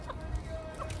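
An Aseel rooster gives a few soft, brief clucks close by against a quiet, hissy background.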